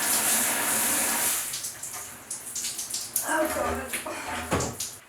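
Tap water runs steadily while dyed pink hair is rinsed at home, a broad splashing wash at moderate level that thins and breaks up later, with a brief nervous exclamation from a person.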